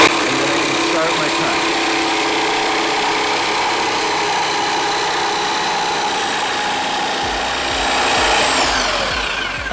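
A jigsaw cuts through a wood board, giving a loud, steady buzzing whine that runs unbroken for the whole stretch and deepens slightly near the end.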